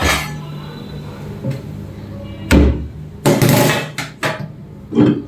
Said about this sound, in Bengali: একটা পেঁয়াজ কাটবো।